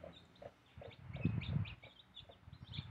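A hen that has just accepted chicks newly hatched in a 50-egg automatic incubator clucks in short low bursts close by, with faint higher peeps from the chicks scattered around.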